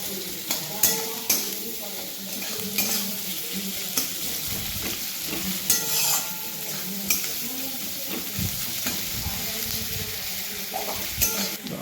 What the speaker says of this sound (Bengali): তো পেঁয়াজটাকে একটু লাল লাল করে ভেজে নেব।